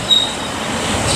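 Rumbling LRT light rail train rolling past close by near Singapore Expo, with a brief high wheel squeal at the start and a steady roar throughout.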